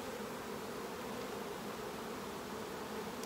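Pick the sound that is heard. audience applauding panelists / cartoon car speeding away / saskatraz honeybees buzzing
saskatraz honeybees buzzing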